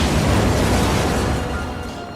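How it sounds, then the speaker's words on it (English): A house blowing up in a film scene, a loud sustained roaring blast with rumbling debris that fills the whole moment and slowly fades toward the end. "resulting in Jack sacrificing himself by blowing up the house"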